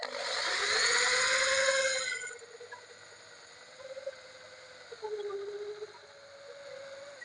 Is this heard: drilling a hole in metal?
yes